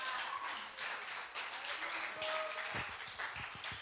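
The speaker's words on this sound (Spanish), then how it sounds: "Recibamos al pequeño Luis con un aplauso," Applause welcoming a young boy onto a stage, a fairly quiet patter of clapping hands that runs for a few seconds, thinning toward the end into a handful of separate claps.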